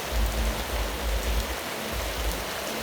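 Heavy rain falls steadily outdoors on a rural property, where a bonfire is still burning, making a close, dense wash of noise with low rumbling gusts and no voices.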